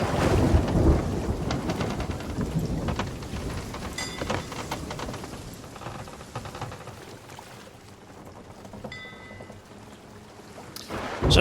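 Thunderstorm at sea in the video game Sea of Thieves: heavy rain pours steadily while a deep rumble of thunder rolls loudest at the start and fades, with a sharp burst at the very end.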